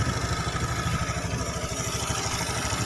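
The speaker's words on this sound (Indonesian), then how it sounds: "Motor langsamnya normal ya" A Honda BeAT FI scooter engine idling, a close, steady low chugging pulse with light mechanical clatter, even and unbroken.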